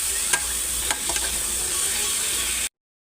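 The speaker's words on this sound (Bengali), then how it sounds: "দইটা দিয়েও ভালো করে নাড়িয়ে নেবো।" Yogurt is stirred into a prawn malai curry in a pan, giving a steady sizzle with a few spoon knocks and scrapes before the sound cuts out abruptly.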